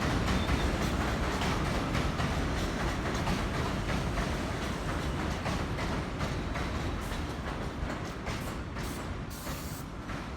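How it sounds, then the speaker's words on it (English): A New York City subway 1 train runs through 215th Street Station in Upper Manhattan on the elevated line, giving a steady loud rumble with clickety-clack wheel rhythm throughout and no talk. "here's the 1 train in Upper Manhattan at 215th Street Station."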